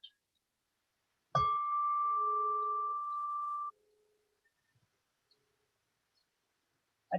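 A single prayer bell struck once in a quiet Christian meditation session, a clear sharp strike followed by a long, pure, slowly fading ring that stops after about two seconds, then near silence.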